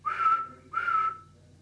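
Two sustained steam engine whistle blasts sound in quick succession, each about half a second long, clear and fairly steady in pitch, with a short gap between.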